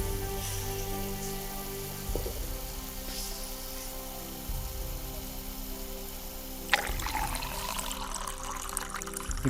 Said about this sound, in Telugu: ఇప్పుడు కాస్త వాటర్ యాడ్ చేసుకుంటే